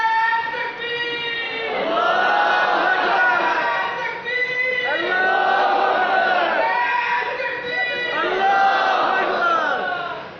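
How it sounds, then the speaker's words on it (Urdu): Voices chant slogans in unison at a religious debate gathering. The loud, drawn-out call-and-response phrases repeat in a steady rhythm, swelling and falling about every few seconds. "نعرے لگا رہا ہے"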